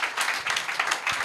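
A congregation applauding during a French-language worship service, with brief, dense clapping that holds at a steady level the whole time.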